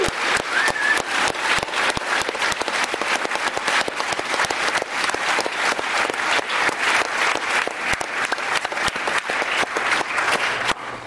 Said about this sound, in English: Can you please join me in giving a riotous, loud cheer of applause?